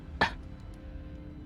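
A game character gives a single gentle, soft cough, brief and close, standing alone over a quiet low background hum in Scarlet Hollow.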